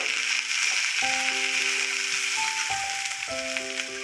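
Carrots and beans dropped into a hot frying pan for veg fried rice, a steady sizzle with clattering stirs and scrapes, and a tonal melody playing underneath.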